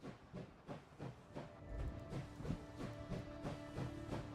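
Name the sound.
train noise in a video game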